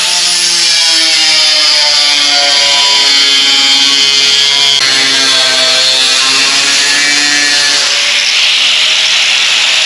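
A power tool cuts steel sheet for a 1930 truck bed, grinding loud and steady close by, its harsh whine shifting pitch over the cut.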